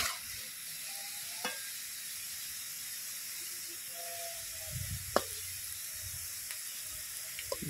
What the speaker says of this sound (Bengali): আলুগুলো নাড়তে নাড়তে খুব সুন্দর করে ভেজে নেব।